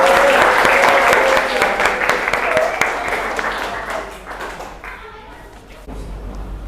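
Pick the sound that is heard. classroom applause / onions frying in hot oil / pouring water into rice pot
classroom applause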